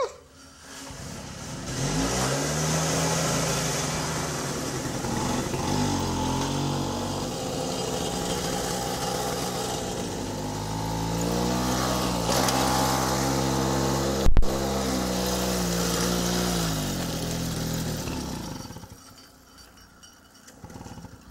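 An old moped's small engine buzzes as the bike is ridden, rising and falling in pitch through repeated revs over about twenty seconds, fairly quiet overall, before fading out at the end.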